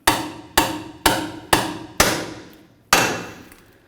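Six sharp metal-on-metal hammer strikes drive a seal driver into a rear wheel hub to seat the axle seal on a 1999-2013 Chevy Silverado, evenly spaced then a final pause and blow, each ringing briefly, close and loud.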